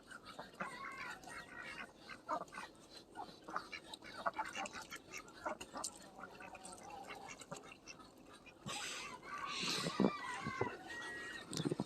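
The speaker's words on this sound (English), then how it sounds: "She's one of our rescue ducks." Ducks quack in a soft, gargly chatter that keeps going, fairly quiet with outdoor background noise, growing a bit louder toward the end.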